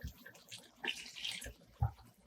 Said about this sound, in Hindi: 3/4 कप पानी ऐड करूंगी इसके अंदर।